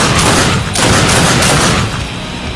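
Heavy sustained gunfire from The Darkness 2, a dense loud fusillade of shots and booms running continuously with no pauses.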